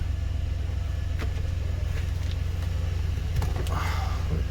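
A GMC or Chevy truck engine idling while it warms up, a steady low rumble throughout at close range, with faint clicks and rustles on top.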